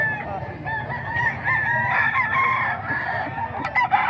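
A rooster of a Nelson Black gamefowl bloodline crows in a long drawn-out call amid other chickens, moderately close over a low background murmur.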